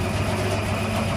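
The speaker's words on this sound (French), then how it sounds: "Et vous observez le comportement du moteur." The electric motor of a mango juice extractor rated at 200 litres per hour runs with a steady, loud, even hum and vibration, unbroken and without voices.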